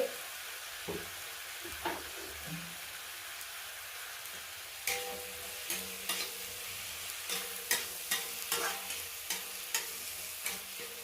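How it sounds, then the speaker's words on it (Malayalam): Chopped tomatoes with salt sautéing in a pan, a quiet steady sizzle with intermittent scraping stirs and small crackling pops that grow more frequent in the second half. "ഇതൊന്ന് നല്ലോണം ഒന്ന് വഴറ്റി കിട്ടട്ടെ"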